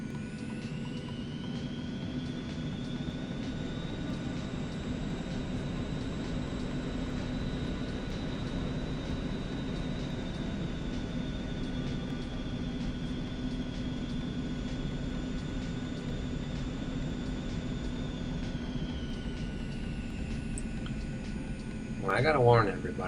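An Eclipse 550 business jet in the X-Plane 11 flight simulator sits on the runway with a steady, loud, unbroken engine roar and a high whine that hold for the whole stretch, plus a brief clatter near the end.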